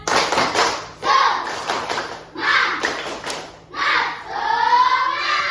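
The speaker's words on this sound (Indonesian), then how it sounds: "Kita mau tepuk semangat." Schoolchildren in a classroom do a rhythmic spirit clap, several bursts of loud group clapping in patterned beats with short pauses between, and children's voices chanting along.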